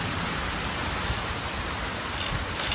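Steady rain falls during a village power cut, a dense even hiss filling the short stretch at moderate loudness with no voices.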